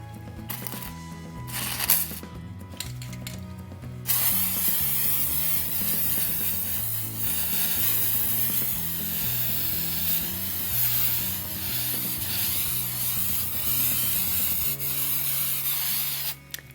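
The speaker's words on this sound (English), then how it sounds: "I'm now going to spray the spray adhesive over" A steady, loud hiss of spray adhesive from an aerosol can onto a dresser drawer runs for about twelve seconds, following a few short bursts, with soft background music underneath.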